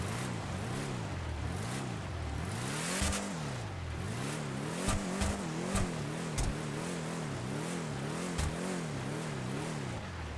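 Engine of the Vapid Desert Raid rally truck in GTA 5 drones continuously, its pitch rising and falling in repeated rev cycles, with a few sharp clunks and bumps as it drives.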